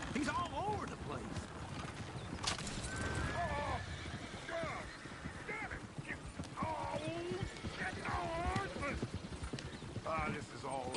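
Horse-drawn coach in the Red Dead Redemption 2 video game: steady clip-clop of hooves with creaking wheels and occasional whinnies, under frequent talk from several people.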